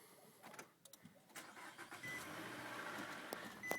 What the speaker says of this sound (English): all I'll have to do is start the car